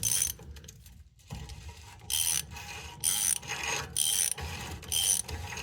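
A ratcheting hand tool tightening the rear axle hub of a 1998-2024 Ford F250 truck, clicking in repeated bursts of pawl ratchets between short pauses, close and loud over low workshop background, with no talk.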